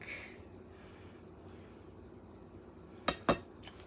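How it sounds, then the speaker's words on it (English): Plates being set aside in a kitchen during steak cooking: two or three quick clinks and clatters of dishware near the end, close and clear after a quiet stretch. "So, I'll set the plates off to the side."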